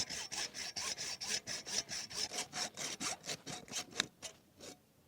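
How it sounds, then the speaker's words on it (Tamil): A hacksaw blade cutting through beef marrow bone in a village kitchen, with about twenty steady back-and-forth rasping strokes in a regular rhythm, close and fairly quiet, slowing and stopping at the end. "ஆஷா பிளேட் அறுக்கு கரெக்டாக வருது"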